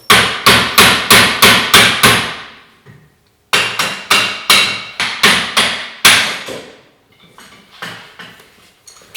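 Hammer strikes on the bottom of a Polaris RZR front end part during teardown, loud metallic blows in quick bursts of about six, with short pauses between groups.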